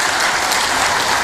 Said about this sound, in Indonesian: Tepuk tangan buat Kang Deddy Mulyadi